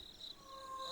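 Faint crickets chirp around a remote village railway station at night, a thin steady trill with brief pulses over quiet background.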